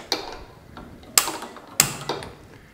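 A gas stove is switched on while cooking wheat upma, giving a few sharp mechanical clicks from the ignition knob, two of them loud and close, against quiet surroundings.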